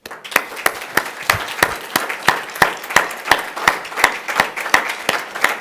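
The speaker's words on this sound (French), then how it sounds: "On peut applaudir Jésus-Christ ce matin et je vous l'invite à le faire maintenant." A church congregation claps together in a steady, even rhythm, sharp beats repeating about three times per second without pause.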